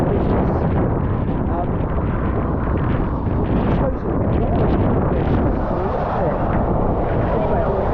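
Steady, loud wind buffeting the microphone with a constant low roar while riding at speed on a BMW R1200GSA motorcycle in wet weather, continuous throughout.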